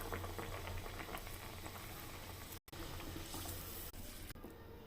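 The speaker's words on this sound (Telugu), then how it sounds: "బంగాళదుంపని తీసుకొని 2 సైడ్ల దానికి పిండి అంటించి సరసర కాగే నూనెలోకి వేస్తున్నా." Potato bajji battered on both sides fry in hot groundnut oil, giving a steady close bubbling sizzle throughout with one brief dropout, and no talk.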